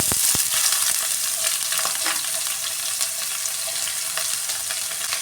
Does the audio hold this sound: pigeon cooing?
no